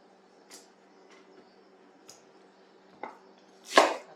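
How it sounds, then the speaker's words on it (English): A knife cuts a medium onion into wedges, making a few sparse, soft taps on a board and then one louder, sharper chop near the end in a quiet kitchen. "Cut onion into wedges."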